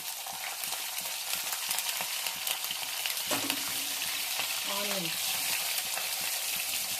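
Cumin seeds and green chillies fry in hot oil in a pan for a bitter gourd and tomato curry, giving a steady, crackling sizzle with a brief stir and a clink partway through, no speech.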